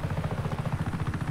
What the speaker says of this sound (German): Cool, wir sind in einem Heli.